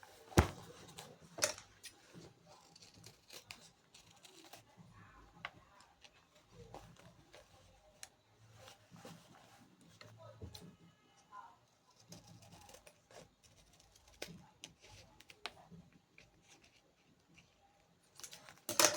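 Scissors cutting a rounded edge along a marked line, with scattered faint snips and crisp rustles spread across a quiet stretch, near and sparse, with no voice.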